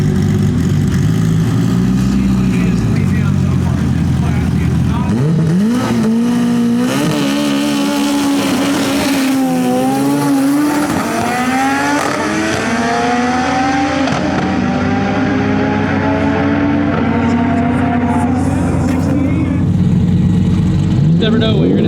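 A 3000 hp Dodge Viper drag car on roll race tires, heard from a ride-along at a TX2K event, idling loudly before launching into a hard, sustained acceleration with the engine pitch climbing and shifting, dense and continuous throughout.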